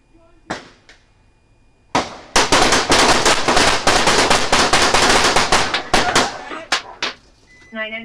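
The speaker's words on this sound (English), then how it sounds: "998 shots fired" Gunshots ring out during a police standoff, a few sharp isolated reports followed by a dense, rapid volley of loud cracks lasting several seconds, then scattered final shots, with a faint beeping in the background.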